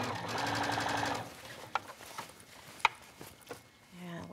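A sewing machine stitches bias trim onto a garment neckline with a 3/8 inch seam, a close, steady mechanical whir and rapid needle rhythm for about a second, then stops, leaving a few clicks and faint handling noises.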